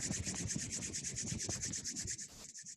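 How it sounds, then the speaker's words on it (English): Palms rubbing together briskly during a qi gong and bone yoga routine, a steady rapid swishing friction that continues almost without pause and stays close and fairly loud, ending with a brief pause and a few final strokes. "bring your palms together and rub your palms together"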